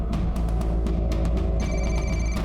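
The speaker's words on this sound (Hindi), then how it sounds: "घंटी की आवाज आ रही है अंदर से।" A telephone rings inside a house, a repeated electronic ringtone heard from a short distance, steady and unaccompanied by talk.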